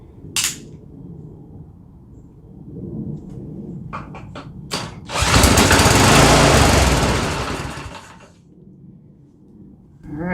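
A Poulan snowblower with a kill switch wiring fault, started with a drill, gives a few sharp clicks and pops, then its small engine roars to life briefly for about three seconds before dying away.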